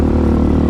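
Hawk 250 enduro motorcycle engine running loud and close in low gear, a steady, dense low rumble with no clear rise or break, lasting under a second.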